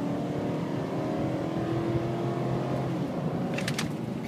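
A 2005 Nissan Titan LE 4x4 pickup's engine runs at a steady, loud, continuous rumble, the pitch rising slightly as it revs, with a few brief high-pitched ticks near the end.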